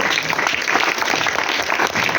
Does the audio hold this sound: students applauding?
yes